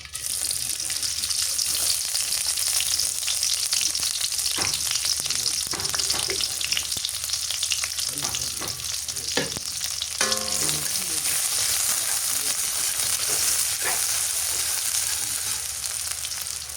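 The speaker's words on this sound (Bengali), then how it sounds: "পিঁয়াজ দিয়ে দিই" Onions hit hot mustard oil in a pan and fry with a loud, continuous sizzle, broken by occasional clinks and scrapes of stirring.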